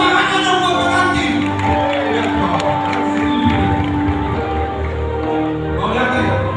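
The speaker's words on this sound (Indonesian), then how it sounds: "Tepuk tangannya dong buat pengantin" A crowd at a Batak wedding party claps and cheers for the bride and groom, a steady, loud wash of cheering mixed with music and voices.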